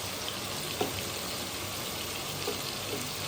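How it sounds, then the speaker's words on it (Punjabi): Masala roasting in a pan with a little water and chickpeas added, a steady soft sizzle and hiss throughout, fairly faint and even, with a couple of small stirring ticks and no talk. "ਤੇ ਮਸਾਲੇ ਨੂੰ ਮੈਂ ਚੰਗੀ ਤਰ੍ਹਾਂ ਭੁੰਨਾਂਗੀ"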